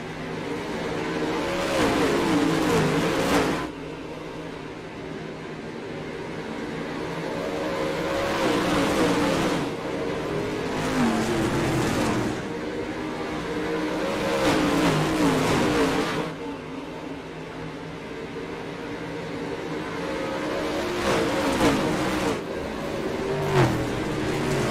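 Pro Late Model race cars at a short-track oval start a 50-lap race, engines roaring and surging in repeated waves of acceleration as the pack passes, loud and continuous with no talk.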